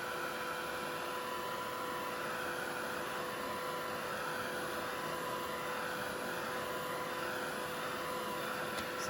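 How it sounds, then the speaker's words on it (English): A heat tool runs steadily while drying oxide ink on paper, a constant broadband blowing hum with a faint tonal whine, held at an even level for the whole stretch with no talk. "And then going to give that a dry."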